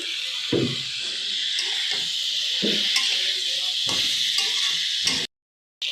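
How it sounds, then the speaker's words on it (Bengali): Chicken pieces fry in oil while being stirred in a pan, with scraping stir strokes and bumps over a bright sizzle, ending in a brief cut to silence. "এটা এখন সুন্দর করে তেলে নেড়ে চেড়ে এখন এই যে আমি চিকেনগুলো দিয়ে দিলাম।"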